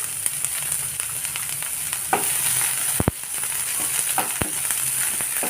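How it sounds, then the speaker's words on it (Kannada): Finely chopped onion fries in coconut oil for prawn dry fry, giving a steady, moderately quiet sizzle broken by a few sharp scrapes and knocks of a stirring utensil. "ಇದನ್ನು ನಾವೀಗ ಸ್ವಲ್ಪ ಗೋಲ್ಡನ್ ಬ್ರೌನ್ ಆಗೋವರೆಗೆ ಫ್ರೈ ಮಾಡೋಣ"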